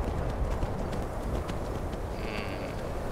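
Rhythmic horse hooves clip-clopping in the video game Skyrim, a steady trotting beat over a low ambient game backdrop, moderately close and without talk.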